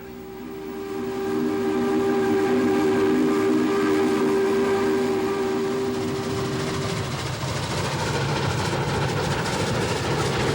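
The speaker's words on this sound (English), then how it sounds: "They like to make the whistle talk." Steam whistle of the 611 steam locomotive, a loud sustained tonal blast with a steady pitch held for several seconds, then fading into the rumble of the moving train.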